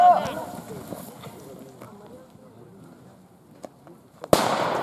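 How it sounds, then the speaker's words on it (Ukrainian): A training grenade bursts with a sharp, loud bang near the end. Before it, distant rustling and scattered small pops are heard over a quiet, fading background at a legion training camp. "Граната! Граната!"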